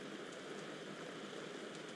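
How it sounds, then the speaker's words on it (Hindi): Steady, even rain falls as a dense hiss in the LUTO horror video game, with no speech over it. "बारिश हो रही है"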